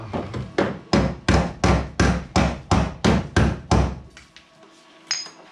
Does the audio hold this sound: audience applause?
no